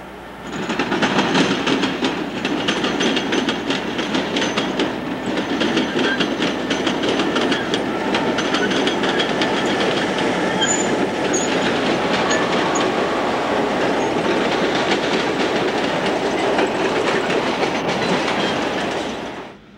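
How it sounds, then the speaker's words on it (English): A long northbound Illinois Central freight train rumbles past close by, wheels clattering in a rapid clickety-clack over the Union Pacific and CSX diamonds at TY Tower, loud and continuous with no talking. "Northbound LAC crosses the Union Pacific and CSX Diamonds at TY Tower."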